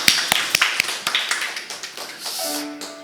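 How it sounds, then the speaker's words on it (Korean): A church congregation bursts into clapping, starting with a few sharp, spaced claps that blend into a short ripple of applause before a sustained tone enters at the end. "주님께 영광의 박수 올려드리기 원합니다"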